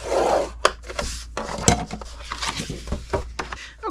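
Scoring cardstock on a scoring board for a double-flap paper treat box, close short scraping strokes and light taps arriving in quick, irregular bursts.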